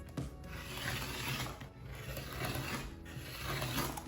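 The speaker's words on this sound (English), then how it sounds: "And I'm gonna cut out each of these blocks." A blade cuts quilt panel blocks out of fabric along a quilting ruler, giving a continuous close, gritty rubbing and crunching with slight surges as it is pushed along.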